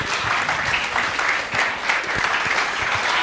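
A crowd at an event applauds Ibukun Awosika, a thick, continuous roar of clapping hands, loud and even from start to finish, with no voices standing out.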